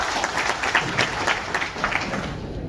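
An audience at a Koli Mahasangh appointment ceremony in Kalyan, Thane district, claps steadily for Tapke saheb, a dense, even wash of applause that holds for a few seconds before tapering off.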